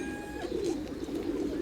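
A pigeon at a pigeon and bird fair coos in low, soft burbling notes, close by, with faint background chatter and a brief tone at the start.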